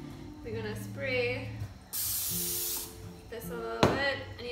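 Cooking spray hisses onto a pizza base mix in one loud, close burst of about a second, between stretches of talking.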